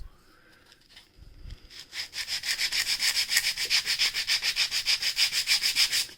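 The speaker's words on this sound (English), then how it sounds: "And I like to sand over something just so I don't make such a mess" Hand sanding a small 1:12 scale wooden weapons crate: a steady run of close, brisk back-and-forth rasping strokes, about four per second, starting after a brief quiet moment and continuing loudly to the end, with no talking.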